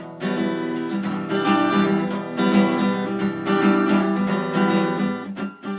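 Strummed acoustic guitar chords ring out in a steady rhythm, shifting between chords over several seconds with no voices.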